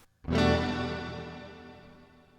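A single guitar note struck once through a reverb pedal's hall setting, ringing out with a long, smooth, spacious reverb tail that fades slowly over a couple of seconds.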